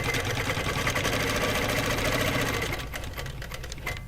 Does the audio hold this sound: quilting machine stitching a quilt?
yes